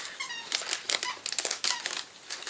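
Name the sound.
squeaky toy duck squeaking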